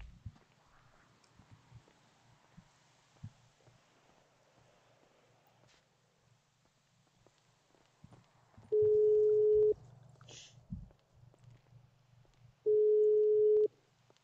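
A phone call rings out: two identical ringback tones, each about a second long and several seconds apart, stand out over faint background noise.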